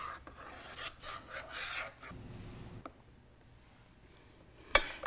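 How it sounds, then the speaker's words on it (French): A knife blade is drawn several times through brownie and cheesecake batter to marble it, giving soft rasping scrapes with brief pauses and a sharp clink near the end. "Je glisse la lame d'un couteau plusieurs fois en travers du mélange pour créer un joli effet marbré"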